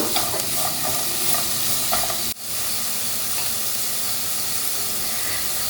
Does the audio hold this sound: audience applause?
no